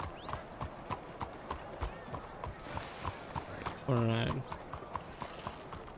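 Horse hooves clip-clop at a walking pace in Red Dead Redemption 2, sounding close and regular under occasional speech, with a brief louder tonal burst partway through.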